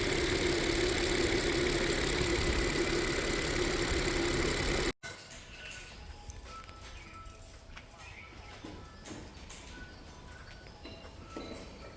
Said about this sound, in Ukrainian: Ось так працює просто на холостих, в принципі, рівненько.